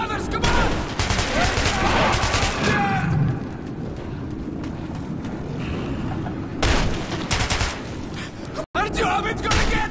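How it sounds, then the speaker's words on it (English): Frantic gunfire in the Metro video game, bursts of shots and booms running almost continuously through the scene while voices shout over the chaos. "Shoot them! You shoot them!"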